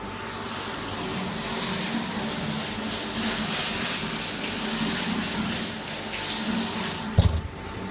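Water runs through a Fabdec wash system during its rinse cycle, a steady hiss and gush with a faint mechanical hum beneath. A brief clunk comes near the end.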